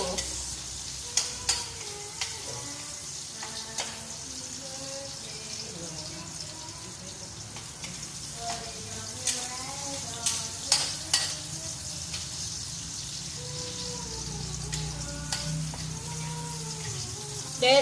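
Chopped ginger frying in a pan for chicken wing tinola: constant soft sizzling with scraping stirs and light clinks of a utensil, while someone talks over it.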